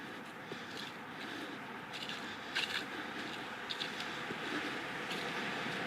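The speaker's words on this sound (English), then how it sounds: "Motorway's just over here. You can hear the cars right now." Distant traffic on State Highway 2, a motorway beside an organic farm in New Zealand, heard as a faint, steady broadband rush of passing cars with a few soft clicks and rustles nearby.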